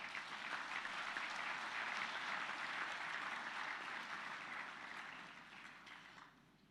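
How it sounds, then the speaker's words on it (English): An audience at the 2013 Global Peace Convention plenary applauds in a soft, distant wash of clapping that holds for several seconds, then gradually fades away. "let's have a round of applause"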